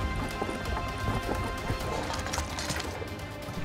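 A horse gallops in the survival video game Rust, with rapid, rhythmic hoofbeats thudding steadily at close range over a busy, noisy backdrop for a few seconds.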